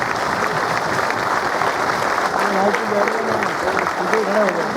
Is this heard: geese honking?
no